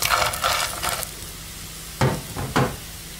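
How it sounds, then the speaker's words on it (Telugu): Fried chicken pieces for Chicken 65 stirred into a hot pan of sizzling spices, a steady frying hiss with scraping stirs near the start and two sharp stir strokes toward the end. "ఇప్పుడు వేయించుకున్న చికెన్ ని వేసి కలుపుకుందాం"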